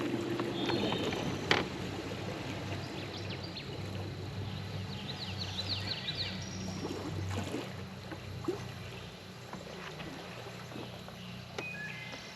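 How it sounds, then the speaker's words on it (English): A bass boat slows from full speed on open water using boat brakes. Wind and water rush fill the scene and gradually ease off, with occasional faint knocks and splashes and no talking. "Let's go ahead and stop, hit the brakes, and see how fast this boat stops."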